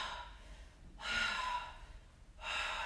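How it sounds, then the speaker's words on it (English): Big breaths during a yoga core exercise, two long airy exhales with a pause between them, close and fairly soft, no talking. "Find your breath here. Nice big exhales."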